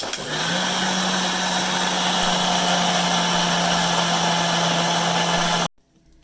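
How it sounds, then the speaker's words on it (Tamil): A wet grinder grinds soaked urad dal into idli batter with a steady, loud motor whir that holds constant for several seconds, then abruptly stops into near silence. "ஃபஸ்ட்டு உளுந்த பட்டு போல் அரைச்சி எடுத்துக்கிடுவோம்."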